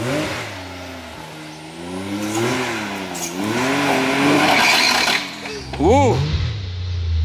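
UTV engine revving hard on a hill climb with a failing visco lock, loud rising and falling surges close up, and a sharp final rev near the end, with a brief exclamation from a person.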